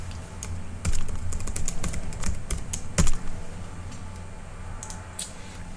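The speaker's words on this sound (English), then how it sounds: "I'm going to slip over here and put in my password." Password being typed on a computer keyboard: a quick close run of light key clicks in uneven bursts, with a couple of harder keystrokes, and no talking.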